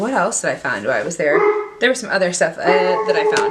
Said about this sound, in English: that is my dog just barking his head off right now at the moment